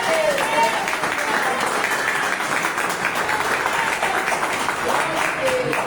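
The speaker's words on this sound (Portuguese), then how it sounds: "Uma salva de palmas para Jesus por nós." A church congregation claps together in praise during a Portuguese-language service, a steady wide spread of hands filling the room with voices faintly mixed underneath.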